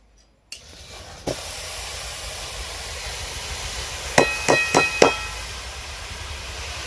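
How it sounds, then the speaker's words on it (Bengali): Kolai greens go into hot oil in a home kitchen, with a steady broadband frying hiss throughout, a few sharp clanks of utensil or lid around the middle, and no talking. "এবারে আমি কলাই শাকটা ভেজে নিব"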